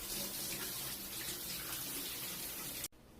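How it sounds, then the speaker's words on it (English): A tap runs steadily while hands are washed, a broad continuous rush of water that stops abruptly near the end, leaving a quiet room. "I'm going to go wash my hands."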